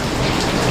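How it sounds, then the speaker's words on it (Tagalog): Heavy rain pours down steadily, a dense, loud, unbroken hiss of drops drumming on surfaces with no pauses. "malakas ang ulan"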